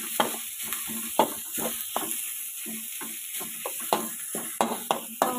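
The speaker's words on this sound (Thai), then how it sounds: "หมูลงไปผัด" Minced pork for Thai basil stir-fry sizzles in a pan as a spatula scrapes and tosses it in quick repeated strokes over a constant frying hiss, close and clear.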